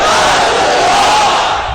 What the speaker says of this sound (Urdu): نعرے تکبیر، نعرے رسالت۔